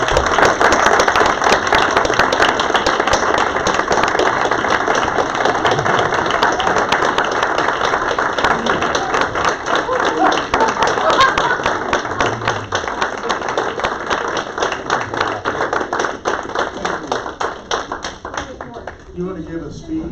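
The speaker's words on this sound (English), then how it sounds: "I want to give Danny a round of applause" A room full of people at a city council meeting applauds with sustained, dense clapping for nearly twenty seconds, thinning out toward the end, with some voices mixed in.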